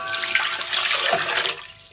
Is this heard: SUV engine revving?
no